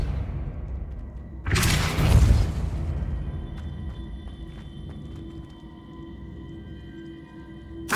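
A Depulso spell is cast in Hogwarts Legacy, a sudden loud whooshing blast with a deep low boom that fades into a resonant ambient hum.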